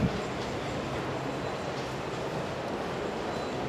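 Steady ambience inside a train station in Japan, a continuous low rumble of rail traffic and station hum at an even level throughout, with no clear voices standing out.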